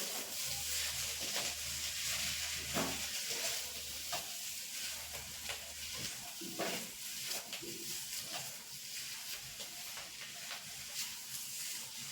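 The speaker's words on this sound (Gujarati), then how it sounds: "મીઠું એડ કરી અને આપણે બરાબર મિક્સ કરી લેશું" Dry farali potato curry being stirred with salt in a pan, a steady soft sizzle with scraping stir strokes throughout, close by and with no talking.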